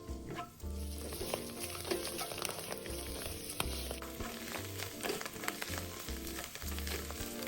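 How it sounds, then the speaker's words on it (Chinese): Shredded soaked shiitake mushrooms stir-frying in fried scallion oil in a wok, a steady close sizzle with repeated scraping strokes from a spatula. "倒入货中爆香。"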